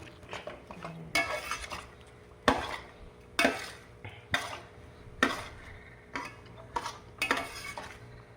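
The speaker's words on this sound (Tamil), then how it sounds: "கை விடாமல் கிண்டினோம்னா சூடானதுக்கு அப்புறம் சிம்மில் வச்சு நல்லா பொரிய கிண்டணும்." A spoon stirs samba rava semolina roasting in ghee in a pan, making repeated close scraping and clinking strokes in an irregular rhythm with no speech.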